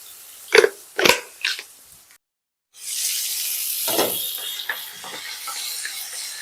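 Raw bananas sizzle steadily in oil in a pan after a few sharp clatters and a brief silence, with intermittent bursts of spattering.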